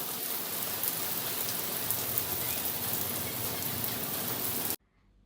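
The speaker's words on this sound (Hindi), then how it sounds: "बारिश हो रही हो" Steady rain falls outside during a rainy spell, a dense continuous hiss of drops that cuts off abruptly near the end.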